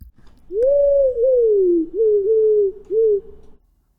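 A synthesized wood pigeon call: a series of loud, smooth coos in a rising-then-falling phrase, repeated several times with short gaps, alone and clean.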